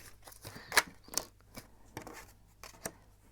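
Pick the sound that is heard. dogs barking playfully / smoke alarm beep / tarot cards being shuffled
tarot cards being shuffled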